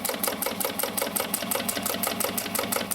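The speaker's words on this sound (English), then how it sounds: "we're just going to sew all the way down" A sewing machine stitches straight down the exterior seam of a tote bag with a 1/2 inch seam allowance. The needle runs at a steady, fast, even rhythm close up, continuous and alone.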